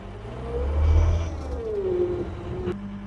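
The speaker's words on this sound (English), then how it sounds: "I will drive over this thing" A car rumbling and revving as it drives over a Ford GT to crush it, a low engine drone that swells and eases, with a rising whine and a sharp scrape near the end.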